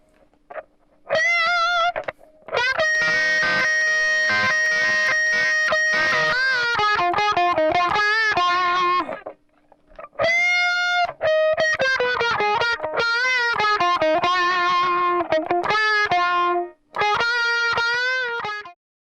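A distorted electric guitar plays the outro of a song high on the neck: loud sustained bent notes and fast picked lines in several phrases, split by brief pauses.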